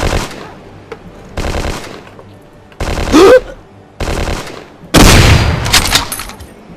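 Gunfire in the Hidden and Dangerous 2 video game, loud bursts of automatic fire in separate clusters with brief gaps between them, the last burst the loudest and densest, with a voice speaking briefly.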